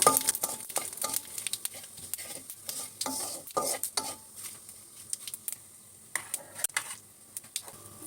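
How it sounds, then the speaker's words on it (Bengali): Dried chili, bay leaf and cumin crackle in hot oil as a dal tempering, with spoon scrapes and pan clinks, loud and busy at first, then thinning into sparse spitting pops. "এই যে বন্ধুরা তেলের মধ্যে শুকনো মরিচ আর তেজপাতা দিয়েছি"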